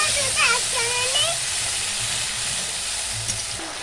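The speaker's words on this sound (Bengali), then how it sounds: "দিয়ে দেবো আদা জিরে বাটা, একটু কষিয়ে নেব।" Ginger-cumin paste and tomato sautéing in a pan with salt, a steady broadband sizzle throughout with a few brief tonal squeaks near the start, close and moderately loud, no talking.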